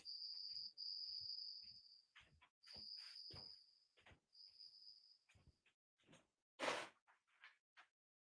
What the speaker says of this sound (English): I think this cricket is in my office.